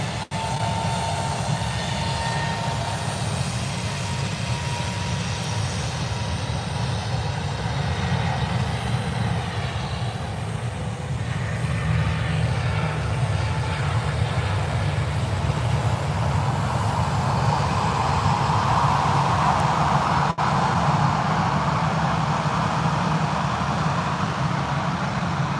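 An EasyJet airliner takes off at Birmingham airport, giving a long, steady, rumbling engine roar that builds gradually and stays loud throughout, with no voices.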